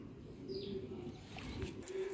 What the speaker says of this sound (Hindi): ले जी दोस्तों वो पीछे है गोल्डन कबूतर